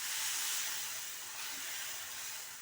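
Dosa batter poured onto a hot pan without oil gives a steady, close sizzling hiss that fades slightly near the end, with no talking.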